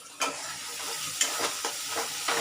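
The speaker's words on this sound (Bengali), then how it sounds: "কষানো হচ্ছে মশলা।" Spice paste being sautéed in a pan for a fish curry: a steady soft sizzle with intermittent stirring scrapes, close and fairly quiet, no voices.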